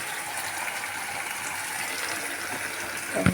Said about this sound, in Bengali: এখন আমি এটার মধ্যে জল দিয়ে দিব।